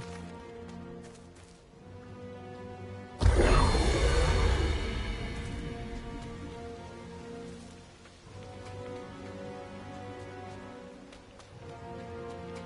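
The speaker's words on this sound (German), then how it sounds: "Es regnet Blut." Blood rain patters steadily in the game Diablo IV, with a sudden loud crash-like burst early on that fades back into a continuous rain hiss over a low musical drone.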